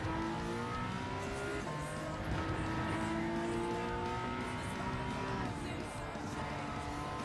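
A BMW M3 race car in Gran Turismo 7 during a league race: a continuous, loud engine drone with rising and falling revs through gear changes, plus a steady hiss of tire noise, with no talk over it.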